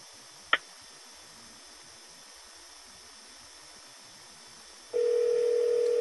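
A BMW Bluetooth hands-free system places a phone call: one short beep over steady hiss, then quiet until a continuous dial tone starts near the end and holds steadily.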